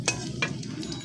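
Greens with onion and chili being stir-fried, a soft sizzle under a few quick scraping stirs of a spatula in the pan, close and brief.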